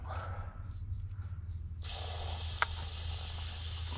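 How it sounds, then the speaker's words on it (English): Aerosol can of lube spraying onto a Detroit generator engine, a steady continuous hiss starting partway through and holding to the end, fairly loud and close with a low engine-room hum underneath. "Give it a little bit more spritz of lube."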